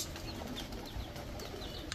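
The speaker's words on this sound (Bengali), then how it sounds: "এখন দেখাবো একজোড়া মাকড়া চোখের আফসান বাঘা কবুতর" Afshan Bagha pigeons, a breeding pair, give soft cooing and faint fluttering, close and quiet over low background noise.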